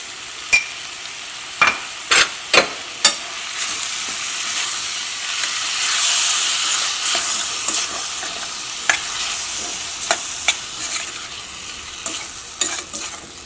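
Tomatoes with salt cooking in a pan, with a soft, continuous sizzle broken by sharp scraping and tapping clicks of stirring, bunched near the start and scattered later.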